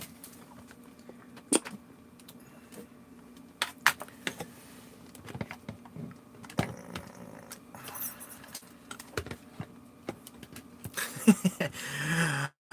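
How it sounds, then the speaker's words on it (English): Typing on a faulty, malfunctioning computer keyboard: irregular bursts of clicking keystrokes with pauses between, close and fairly quiet, ending in a busier flurry of taps, with no talking. "The keyboard is messed up."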